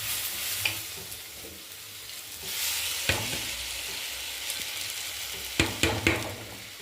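Onions sautéing in a pan with pepper powder and masala powder for a prawn roast, a close, constant sizzle punctuated by a few sharp spatula knocks against the pan.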